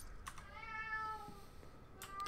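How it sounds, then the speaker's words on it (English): A pet cat meows plaintively in the background, several drawn-out, upset cries spaced apart, faint and somewhat distant, with light clicking under them. "I don't know what my cat is lamenting in the background, but he's very, very upset"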